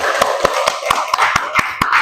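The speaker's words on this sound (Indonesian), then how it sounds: "Oke, tepuk tangan." A small group claps by hand in a steady, fairly quick rhythm of sharp individual claps, close by and continuing throughout.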